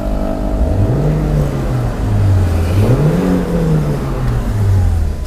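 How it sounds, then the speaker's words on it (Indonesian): Revving of a 2019 Toyota Calya G manual with a 1200 cc engine, loud and close, its pitch rising and falling through several smooth throttle blips with no voices. "kita dengerin raungan dari mobil 1200 cc ya"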